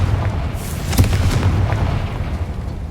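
A loud, booming Confringo blasting-spell explosion in Hogwarts Legacy, with a sharp burst followed by a sustained rumbling roar that fills the whole moment, heard alone without talking.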